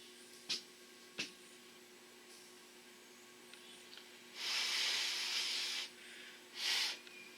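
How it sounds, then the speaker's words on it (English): Breath blown onto a fishing reel bearing to dry out brake cleaner, two long close hissing bursts following a couple of brief clicks, otherwise quiet. "as I blow on it, it'll evaporate all of that brake clean right out of that bearing"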